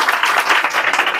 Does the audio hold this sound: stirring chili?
no